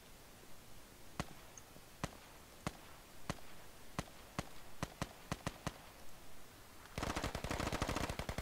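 Gunfire in the Squad military shooter game: a run of sharp single shots spaced about a second apart, quickening into a cluster, then a dense rapid automatic burst at the end, loud and with no talking.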